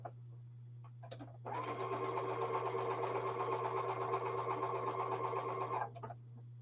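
A sewing machine chain piecing jelly roll fabric strips runs in one steady, close stitching burst of about four seconds, framed by short quiet pauses over a low constant hum.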